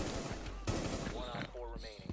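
Rainbow Six Siege gunfire punching through a wall: a quick burst of several rapid shots near the start, with a few more cracks after it, set against game ambience and under overlapping voices.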